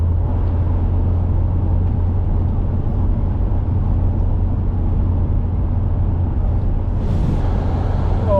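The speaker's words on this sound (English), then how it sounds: "Oh, listen to that wind go past." Steady, loud wind roar buffets past while riding a motorbike at almost 50 mph, a dense continuous rush with deep low rumble throughout and no speech.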